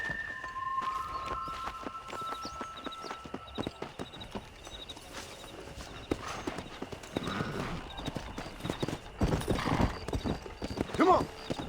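Horse hooves clip-clop at a gallop in Red Dead Redemption, a steady, close, rhythmic pounding that builds toward the end, with a horse whinny and scattered voices over it.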